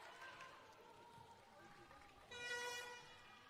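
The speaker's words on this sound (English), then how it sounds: "There we hear the siren for the 2-point has gone." A horn-like siren blares loudly near the end of a netball match, sustained and tonal, over crowd noise and a faint voice in the background.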